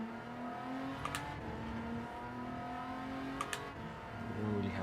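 A Maserati Merak SS '80 in Gran Turismo 7 drones steadily at full throttle, its engine note holding and climbing slightly, with a couple of brief clicks over the steady sound.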